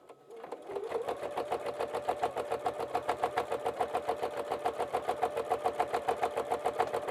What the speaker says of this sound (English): I'm just sewing this right up against my binding